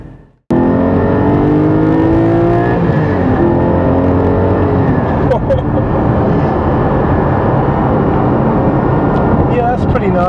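A Porsche Cayman GT4 engine heard from the cabin pulls hard and climbs in revs, with a loud rising drone, a brief shift dip, then renewed acceleration.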